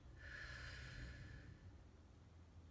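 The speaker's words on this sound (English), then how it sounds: "Take a long breath out" A long, soft exhalation of breath, steady and airy for about a second and a half before fading into quiet room tone, close to the microphone with no talking.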